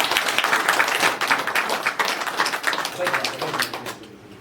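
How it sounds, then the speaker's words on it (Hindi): A church congregation claps loudly together in dense, fast, continuous applause that fills the whole stretch, fading slightly at the very end. "परमेश्वर के नाम की जोरदार ताली बजाएंगे"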